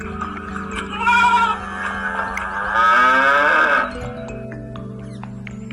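A cow moos twice in a loud, drawn-out, tonal call, heard close and alone over a faint steady background hum, with a short pause between the two calls.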